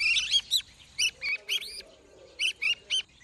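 Two small birds chirp in quick bright bursts, close and clear, with short gaps between calls and a faint low murmur underneath.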